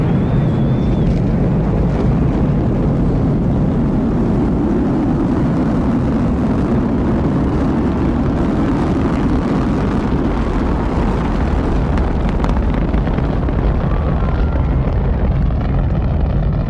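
Space shuttle main engines igniting at launch: a loud, sustained roar with deep rumble and broadband crackle that holds steady throughout, with no voices over it.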